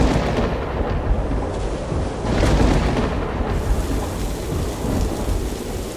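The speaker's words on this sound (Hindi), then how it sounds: "लगता है आज तूफान आने वाला है" A thunderstorm at sea, with heavy rain hissing steadily and loud rumbling thunder rolling in the middle, the whole wash of sound loud and close with no voices.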